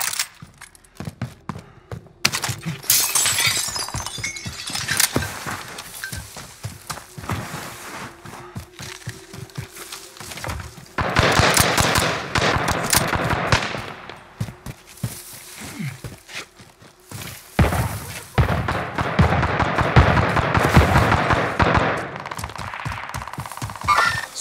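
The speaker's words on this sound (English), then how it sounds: "I'm under fire." Gunfire in a Call of Duty Resurgence match on the Caldera map, played on Xbox Series X: dense rapid bursts of automatic shots crackling in sustained volleys with brief pauses, loud and close, mixed with scattered impacts and movement noise.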